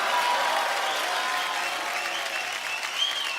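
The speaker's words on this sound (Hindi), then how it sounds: "सो आप सबकी जोरदार तालियों के बीच एक बार फिर से इनवाइट करना चाहूंगा।" Studio audience at a televised comedy talk show applauding as guests are welcomed on stage, a loud, full wash of clapping that carries on evenly for several seconds without talk.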